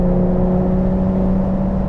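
A 2023 Porsche 911 Carrera GTS Cabriolet's exhaust drones loudly and steadily at autobahn speed, a continuous near engine note with a strong low hum and no talk.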